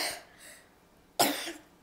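A single sharp cough bursts out near the microphone in a quiet home during a family chat about Santa's visit, preceded by faint soft breathy sounds.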